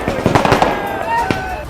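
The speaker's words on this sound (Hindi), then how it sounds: "घर के बाहर आतिशबाजी शुरू हो गई" Celebratory fireworks crackle outside a house, a string of sharp pops and bangs at moderate distance mixed with voices of a gathered crowd.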